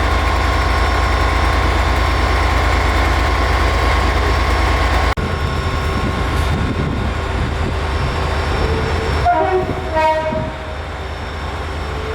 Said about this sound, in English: various Avanti and Transpennine services occupy the main line